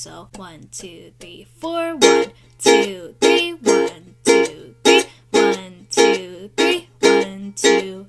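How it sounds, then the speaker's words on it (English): Ukulele strummed downward with the strings palm-muted right after each stroke, giving short choked chucks in a steady three-beat rhythm, with a person counting aloud over every stroke. "you're going to strum down and then mute your strings every time you strum"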